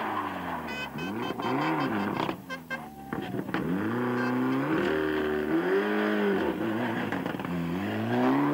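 A rally car driven by O'Mahony races past at speed on a stage, its engine loud and close, rising and falling through gear changes and revs as it goes by, with no talking.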